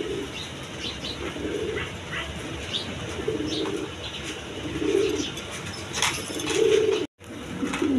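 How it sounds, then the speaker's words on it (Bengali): Blazer pigeons, a matched male and female with their chick, give repeated low soft coos in a steady rhythm, close by, with faint chirps and outdoor noise behind. "ব্লাজার কবুতর আছে, নর মাদি সেম টু সেম, একটা বাচ্চা সহ আছে।"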